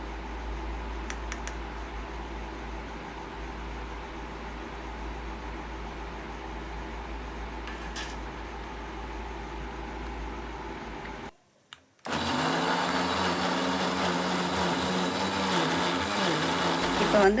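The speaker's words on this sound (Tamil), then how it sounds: "இப்போ வந்து நம்ம வறுத்து வச்சுருக்க மிளகாயை வந்து அரைச்சி எடுத்துக்கலாம்." Mixer grinder grinding roasted chillies: a steady low whirring motor hum that cuts out briefly, then restarts louder and harsher with a grinding roar.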